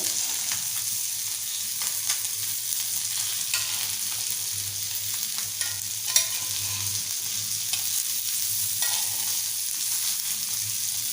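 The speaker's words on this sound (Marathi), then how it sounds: "एका साईडनं छान फ्राय झालेत आता आपण फिरवून दुसरी साईड ही फ्राय करून घेऊया" Mandeli fish fry in hot oil and are flipped to cook the other side, with a continuous close sizzle and faint utensil scraping throughout.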